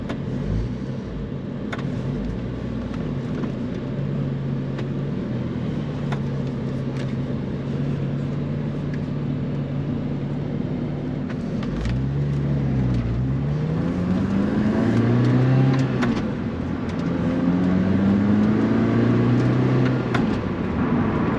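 A 2005 Lotus Elise's Toyota 2ZZ engine runs steadily from inside the cabin, its low hum rising and falling in pitch as it revs and shifts gears.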